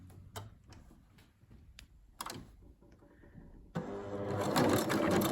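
A sewing machine stitching pintucks into fabric starts with scattered ticks and clicks, then runs into a loud continuous whirring hum for the final seconds.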